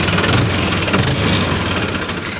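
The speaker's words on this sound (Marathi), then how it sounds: "याला ट्रॅक्टर बंद करता येत नाही मित्रांनो" A tractor engine idles steadily nearby, a loud continuous low rumble with slight unevenness and no voices over it.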